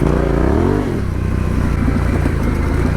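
A Yamaha Tenere 700 motorcycle accelerates on off-road terrain, its engine loud and close, rising in pitch at first before settling into a rough, pulsing drone with some clatter.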